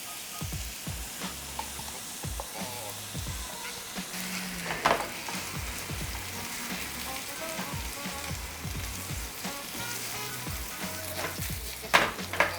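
Lemongrass and ginger paste stir-frying with onion and garlic for chicken satay sauce, a steady close sizzle with scraping stirs and spatula taps throughout.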